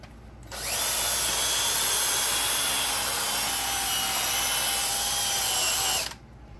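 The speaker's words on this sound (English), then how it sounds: "we're gonna agitate it with the drill brush right here." A power drill whirs steadily for about five seconds, its spinning brush scrubbing the upholstery of a Honda Civic interior with a rough rubbing hiss, then stops.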